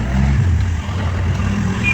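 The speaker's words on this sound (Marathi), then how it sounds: "आम्ही बसलो रिक्षामध्ये, आता चाललो" Small auto rickshaw engine drones steadily on the road during a ride, a low continuous rumble with a few surges, close and fairly loud throughout.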